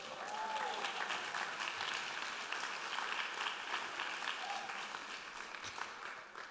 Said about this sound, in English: You clap now, but you may be sorry.